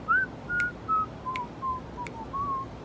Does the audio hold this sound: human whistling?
yes